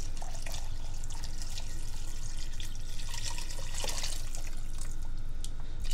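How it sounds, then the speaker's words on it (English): Water pours into a pot over diced bell peppers and onion as a steady, close splashing and trickling stream that fills the whole clip without pause. "Then I'm going to top it all off with some water."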